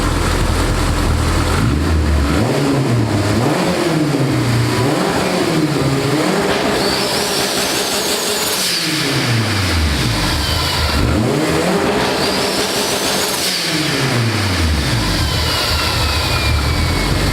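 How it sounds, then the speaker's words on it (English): Honda Civic with a Hondata S300 V3 engine-management upgrade, its engine revving repeatedly in loud, rising and falling sweeps on two-step launch control, close and alone with no talk. "So I just let it heat cycle, did a two-step, and you probably heard that."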